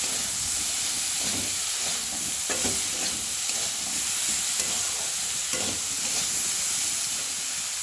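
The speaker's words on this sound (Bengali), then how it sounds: "নুন দিয়ে হালকা নাড়বো।" Pumpkin greens frying with salt in a hot pan, a loud continuous sizzle and hiss with steady stirring scrapes underneath, close and without talk.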